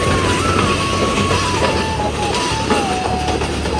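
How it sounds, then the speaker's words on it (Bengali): A passing train rumbles loudly at a railway crossing, with rolling wheel clatter and a steady drone close by, and no voices heard. "আর এদিকে কিন্তু ট্রেনও আসতেছে"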